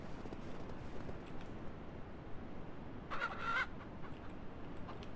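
Chickens in the farming video game Ranch Simulator give a brief burst of clucking midway, faint over a steady low background murmur, with no talking during it.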